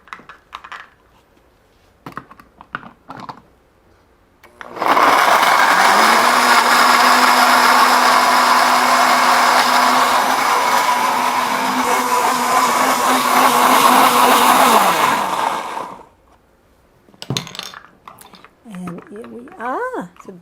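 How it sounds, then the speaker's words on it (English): A blender purees seaweed and other sea vegetables for vegan sushi, running loud and steady for around eleven seconds before spinning down. Speech and kitchen clatter come before and after it. "And then we blend all this. Let's blend this."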